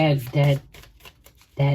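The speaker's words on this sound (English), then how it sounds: "deck just broke or split in the middle of the shuffle" A tarot card deck is shuffled in a run of quick, soft papery riffles and taps lasting under a second, set between a woman's spoken phrases before and after.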